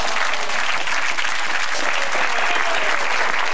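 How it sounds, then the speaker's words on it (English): Studio audience applause on a game show, a steady wash of clapping sustained at even loudness, with no talk over it. "Round of applause for Laura!"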